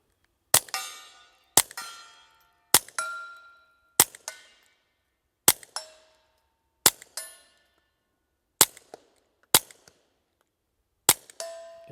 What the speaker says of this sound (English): it is really fun to shoot out of a suppressor